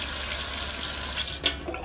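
Water runs from a tap in a steady hissing rush, close by, with a small splashy knock near the end and no voices.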